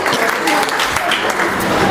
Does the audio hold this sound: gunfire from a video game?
no